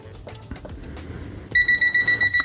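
A loud, steady electronic beeping alarm from an ANENG 623 multimeter detecting a live wire starts suddenly halfway through, a high pulsing tone repeating rapidly after a stretch of faint rustling and handling noise.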